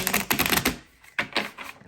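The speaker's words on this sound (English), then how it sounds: "Just a couple more shuffles" A deck of tarot cards is shuffled by hand in quick riffles. Rapid dense fluttering bursts come close to the microphone, broken by a short pause partway through.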